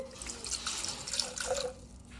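Water runs and splashes into a plastic measuring cup for an ALLKEYS 500W immersion hand blender, a soft, fairly quiet trickle that fades near the end.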